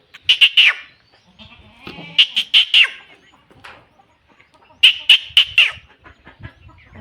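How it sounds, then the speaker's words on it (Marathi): A goat waiting to be milked bleats loudly and close in three separate bursts of quavering, pulsing cries, with quiet pauses and soft shuffling between them. "चला आता शेळीचं दूध काढतो"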